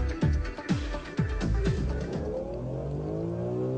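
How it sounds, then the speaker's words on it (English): BMW M3 accelerating hard at full speed on a test track, engine rising through several quick upshifts in the first second and a half, then a sustained loud climbing drone as it pulls away. "The M3 on full speed ahead."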